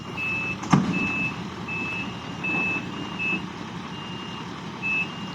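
Evenly spaced electronic reversing beeps from a truck at a pond-digging site, repeating steadily over a low engine rumble, with one sharp knock early on.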